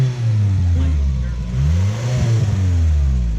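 A Chrysler Conquest engine runs close by, its low rumble rising and falling through a couple of revs, loud and rough.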